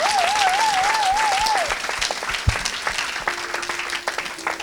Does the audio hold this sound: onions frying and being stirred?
no